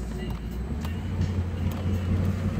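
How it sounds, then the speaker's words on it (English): A 1995 Ford Mustang GT with quiet mufflers, heard from inside while driving: a steady low engine drone with road rumble, moderately loud and continuous. "The throttle's very responsive,"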